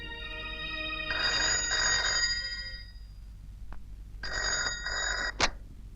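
A telephone rings in two bursts of a bright electronic ringtone, each lasting over a second, with a short click between and a sharp knock at the end, set against a quiet, hissy room in a Hindi action film scene.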